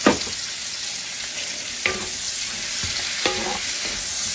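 Zucchini, mushroom and onion sizzle steadily in a hot pan, a constant frying hiss broken by a few sharp clacks of a utensil stirring the vegetables; no talking.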